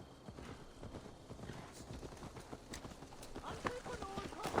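Horse hooves clip-clop in a steady walking rhythm in Assassin's Creed Valhalla, moderately close and continuous, with a soft snort or whinny near the end and in-game speech over it.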